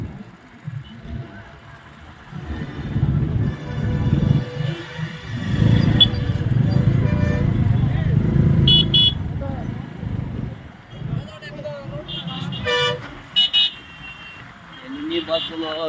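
Buses packed in slow, heavy traffic heading to a large public rally in Kurnool: a continuous engine rumble with horns honking near the end.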